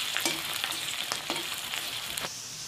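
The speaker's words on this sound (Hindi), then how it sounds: "हरी मिर्च डाल देंगे, कटी हुई प्याज रखी थी हमने वो डाल देंगे। इसको मिक्स कर लेना है।" Chopped onion and green chilli are stirred into a pan with garlic paste, a soft frying sizzle broken by repeated spatula scrapes and taps; quiet and close, with no voices.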